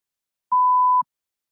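A single steady electronic test-prompt beep, a pure mid-pitched tone lasting about half a second, clean and isolated with silence before and after.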